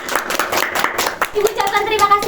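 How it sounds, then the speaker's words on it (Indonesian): Classroom children clapping for a group, a burst of quick uneven hand claps close by, with young voices talking over the latter part. "Beri tepuk tangan untuk kelompok 1."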